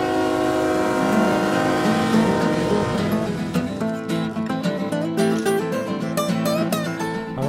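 A train arriving on the tracks rumbles steadily and loudly, with sustained horn-like tones and metallic squeals rising over the heavy rolling noise.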